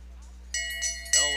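A bell rung to signal the final lap of a short track bike race clangs in sharp, rapid bursts, mixed with voices at the event.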